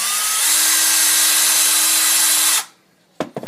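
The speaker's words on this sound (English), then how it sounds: "I'll go ahead and drill that out." A power drill bores a hole through a plastic AM 4.5 Stormtrooper helmet, a loud steady whirring grind lasting about two and a half seconds before cutting off, followed by a few faint clicks.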